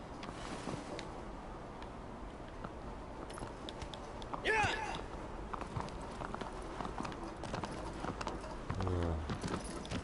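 Horse hooves clip-clop in Shadow of the Colossus, a steady stream of light walking hoof taps under game ambience, with a couple of louder thuds midway and near the end.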